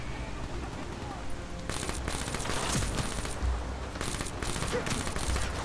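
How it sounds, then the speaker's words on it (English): Gunfire in the Call of Duty: Black Ops III campaign, bursts of rapid rattling shots starting partway through and recurring in dense volleys over a background of game ambience. "I don't even know where those shots are coming from."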